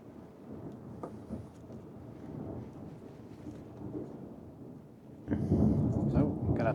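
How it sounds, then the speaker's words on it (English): Distant thunder rolls from an approaching thunderstorm, a low sustained rumble that swells louder near the end; some faint voice or background activity sits beneath it. "got a thunderstorm coming in"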